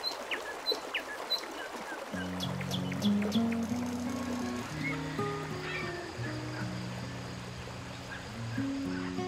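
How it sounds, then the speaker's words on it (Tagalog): Morning birdsong at a forest campsite beside a minivan, scattered chirps and calls over a soft outdoor hiss, joined after a couple of seconds by steady background music. "bumungad sa akin ang sariwang hangin at malamyos na awit ng mga ibon"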